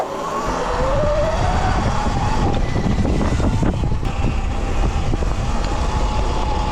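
A 72-volt Sur Ron electric dirt bike cruising down a driveway, its rising motor whine and tire rumble close and loud, buffeted by wind noise against the microphone.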